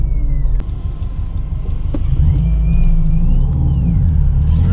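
A car cruising down the highway, steady engine and road rumble holding loud and close throughout, with a faint rising whine drifting above the drone.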